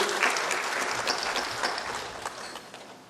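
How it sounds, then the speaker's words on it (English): An audience at a Trinidad and Tobago Indian Arrival Day celebration applauds a sixteen-year-old schoolgirl from Parvati Girls College walking onto the stage, a steady wash of clapping that slowly fades. "Let's give her a round of applause as she makes it on stage"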